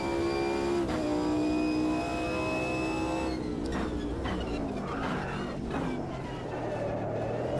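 Race car engine in the Automobilista 2 racing sim, whining at high revs with a steady harmonic tone, then dropping into rougher, fluctuating revving and grinding as the car slows and slides.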